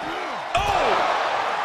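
A single heavy slam of an ambulance door during a wrestling match, loud and close, set against a noisy arena backdrop with voices.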